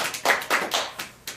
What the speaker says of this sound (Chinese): 咱们掌声鼓励一下吧